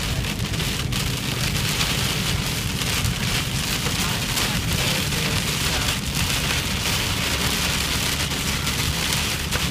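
Heavy rain pours during a thunderstorm on a road near Rio Cuarto, Argentina, a dense, unbroken roar of drops striking surfaces, loud and close throughout, with faint low rumbles beneath.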